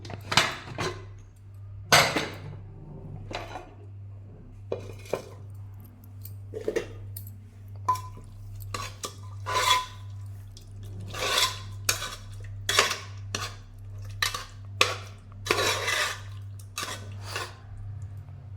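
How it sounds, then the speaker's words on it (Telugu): Cooked ridge gourd curry made with milk is scooped from a pressure cooker into a bowl: a series of sharp metal clinks and scrapes of a spoon against the vessels, close and irregular over a low steady hum. "దీన్ని ఇప్పుడు ఒక గిన్నెలోకి ట్రాన్స్ఫర్ చేద్దాం."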